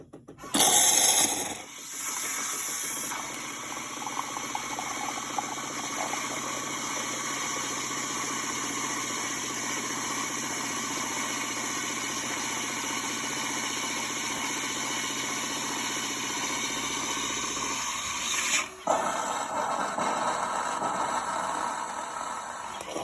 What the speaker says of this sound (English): So the first thing that happens is the milk will come out.